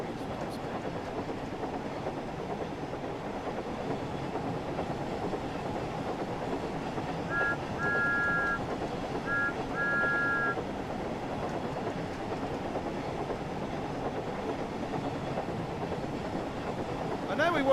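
Thomas the Tank Engine steam train running in Train Sim World 5, a steady broadband rolling rumble throughout, with two short pairs of high tones sounding midway.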